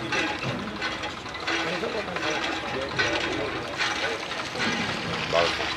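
Water gushes from a pipe in a steady, splashing flow, with voices talking faintly over the continuous rush.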